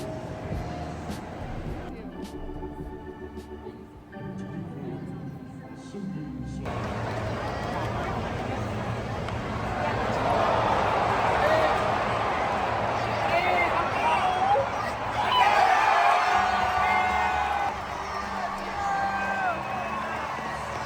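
Crowd noise at an Atlanta Braves baseball game in a packed stadium, a broad roar that swells and surges in waves, with music and a voice underneath early on.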